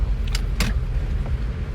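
A 2016 Ford EcoSport Titanium automatic on a test drive, heard as a low, steady engine and road rumble inside the car, broken by a couple of brief rattling clicks.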